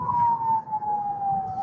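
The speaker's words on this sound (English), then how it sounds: "Sounds like an ambulance." An ambulance siren sounds in a game, a single steady wailing tone that slowly falls in pitch, clear over a low background rumble.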